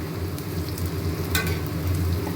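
Chickpea-leaf fritters fry in a pan with a steady, moderately loud bubbling sizzle over a low hum, close by and continuous, with one brief brighter crackle midway and no talking.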